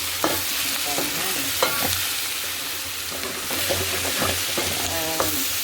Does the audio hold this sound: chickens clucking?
no